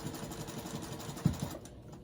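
Domestic sewing machine stitching fabric in a home sewing room, a steady rapid needle chatter running close and continuous, with a brief thump partway through and the motor easing off near the end.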